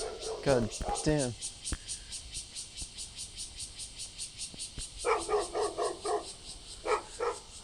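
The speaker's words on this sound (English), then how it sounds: "this dog is like in my grill" A dog barks in a few quick bursts early on, then gives more barks later, close by, against a steady high-pitched background tone.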